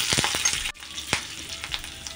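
Garlic, ginger and green chili fry in oil for a misal pav masala, a close, bright sizzle with several sharp stirring scrapes and clacks in quick succession.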